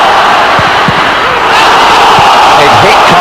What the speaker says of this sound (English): crowd behind the goal with hopeful shouts for handball